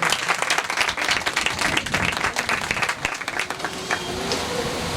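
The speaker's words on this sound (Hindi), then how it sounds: "एक बार फिर जोरदार तालियां।" A church congregation at a Sunday service applauds heartily, dense clapping from a crowded room that runs throughout without a break.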